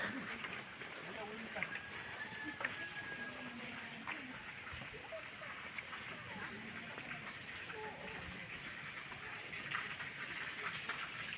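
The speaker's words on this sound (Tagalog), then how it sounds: "Uy, parang may ilog dito," Steady broadband rush of a flowing river, continuous and fairly close, by a butterfly garden at La Mesa Dam, Quezon City, with faint scattered background sounds over it.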